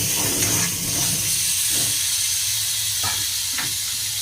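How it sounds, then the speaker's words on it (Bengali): Hog plums (amra) frying in oil in a pan for a taro and hog plum sour dish, giving a steady close sizzle with a few soft stirring clicks and no talk. "আমার আমড়া ভাজা হয়ে গেছে,"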